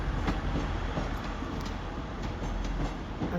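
A Class 150 passenger train rumbles through a station at Manchester Piccadilly, East Didsbury or Mauldeth Road. The engine drones steadily with faint rhythmic wheel clicks, fairly loud and continuous, and no voices are heard.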